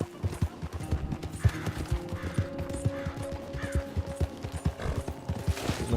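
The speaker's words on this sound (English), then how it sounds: "The horse." Horse hooves clip-clopping at a steady walking rhythm in Red Dead Redemption 2, moderately close, with faint game ambience underneath.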